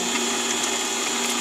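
A mini-lathe drills a 0.5 mm hole through a 4-inch soft steel bolt, giving a steady, loud, continuous motor whine with a high tonal hum and no talk.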